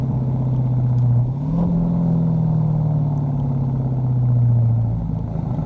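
A 2023 Dodge Charger Scat Pack Wide Body's engine drones low and close as revs fall below about 2,000 RPM, its pitch lifting briefly and then settling into a steady, throaty rumble.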